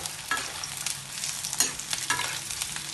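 Onions frying in ghee for biryani, a steady close sizzle with intermittent stirring scrapes and clinks, no voices.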